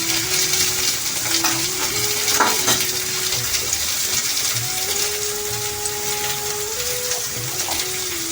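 Potatoes frying in a pan for a Bengali vegetarian lau shaak and posto dish, a steady close sizzle with faint stirring and a thin background whine.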